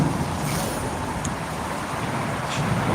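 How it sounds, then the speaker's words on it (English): Cars drive over an overpass, producing a continuous broad roar of traffic with faint passing swells, steady and moderately loud, with no talk. "you can hear the cars running over"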